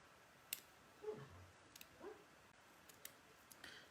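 Scissors snipping fabric for a Christmas sewing kit, two or three soft close cuts with small clicks between, quiet and sparse.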